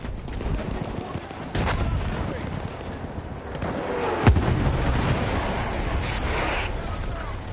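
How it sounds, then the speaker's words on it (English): Artillery barrage in the World War I shooter Battlefield 1, a steady rumble of distant blasts and crackling gunfire with one sharper nearby impact midway, under brief voices. "Enemy coordinates have been sent to our artillery"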